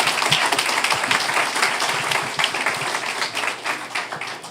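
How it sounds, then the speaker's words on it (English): A crowd at a town board of aldermen meeting applauds wrestling coaches, with dense, fairly close clapping that carries on steadily for a few seconds before starting to thin out. "So round of applause for all of our coaches."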